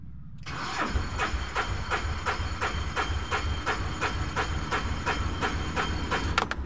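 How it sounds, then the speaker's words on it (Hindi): A Tata Ace Zip BS4 diesel engine with a starting problem and no rail pressure cranks steadily with its starter, a rapid rhythmic churning that keeps turning over without catching, loud and close. "अभी एक बार सेल्फ मारेंगे ठीक है आप लोग देखिएगा"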